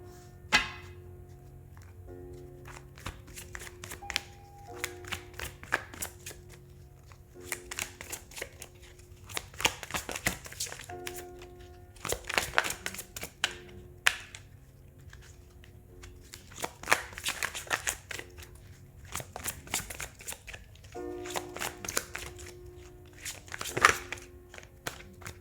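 Tarot cards are shuffled by hand in repeated quick riffling bursts, crisp and close, separated by short pauses over a quiet room.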